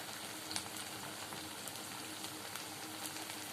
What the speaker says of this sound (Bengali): তেল গরম হয়ে গেছে, এবার আমি এক এক করে ছেড়ে দেব।